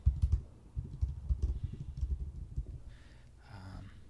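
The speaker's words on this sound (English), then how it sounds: "typing in whatever you like to" Soft, rapid keystrokes on a computer keyboard tap in an uneven flurry, close and quiet, fading out toward the end with a faint rustle.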